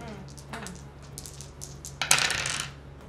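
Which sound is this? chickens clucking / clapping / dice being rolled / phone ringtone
dice being rolled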